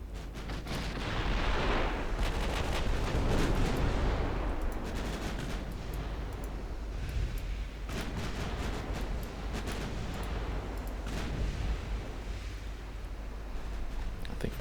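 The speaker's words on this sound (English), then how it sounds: "There we go, torpedo hits." Naval gunfire and torpedo hits from a 1929 Italian fleet battle in Ultimate Admiral Dreadnoughts, a dense rumble of distant booms and repeated blasts with sharp impacts scattered through a steady, fairly quiet background.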